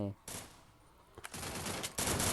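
Gunfire from a gun in a first-person shooter video game, heard as loud bursts of rapid automatic shots after a brief pause, with a second sustained volley and no talking over it.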